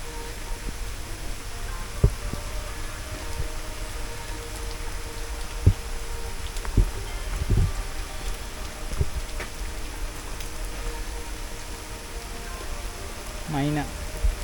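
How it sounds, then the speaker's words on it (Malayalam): Heavy monsoon rain falls on leaves in a green valley park in Belapur, a steady, dense hiss with occasional heavier drops and a brief bird call near the end. "നല്ല മഴയുണ്ട്."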